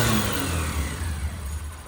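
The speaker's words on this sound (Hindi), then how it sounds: "यह है क्विक थ्रोटल, मैं लेता हूँ फुल थ्रोटल।" A Honda Shine 125 motorcycle engine revs hard at full throttle close by, roaring loudly and then easing back over about two seconds.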